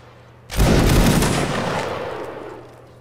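A musket line volley fires in Mount & Blade: Warband Napoleonic Wars, one loud near burst of many shots together, trailing into a rolling rumble that fades over a couple of seconds.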